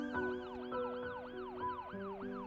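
Wailing emergency sirens sweep up and down in repeated rising and falling cycles, overlapping one another at moderate volume as they draw nearer along a street, with no talk.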